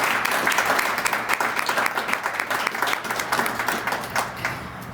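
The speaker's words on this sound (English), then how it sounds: "Please give them another round of applause" Steady, full audience applause at a Montana award ceremony, the Statehood Centennial Bell Award, holding at an even level for the whole stretch without any talking.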